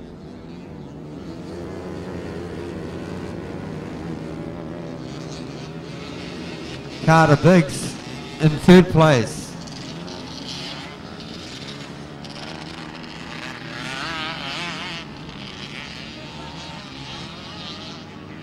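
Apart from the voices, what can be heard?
grass kart engines racing, FXR 150 leading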